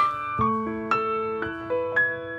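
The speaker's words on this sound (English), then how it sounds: "That's the sound of the music box." Bright, plucked metallic notes chime one after another in a gentle melody, each ringing on and overlapping the next like a wind-up music box.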